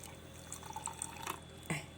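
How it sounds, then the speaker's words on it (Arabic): Hot water is poured into a glass, about a quarter full, for a powdered karak drink: a faint, brief liquid trickle with a few small drips and splashes and no talk. "انا بحط ميه سخنه الاول كده شويه من الميه السخنه، يعني ربع كوبايه"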